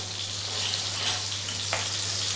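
Broken chillies, about three, frying in oil in a pan: a continuous, even sizzling hiss with one brief stir or tap near the end.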